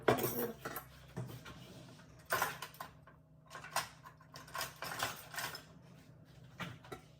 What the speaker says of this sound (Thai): มันก็จะเริ่มหั่นมะเขือเทศ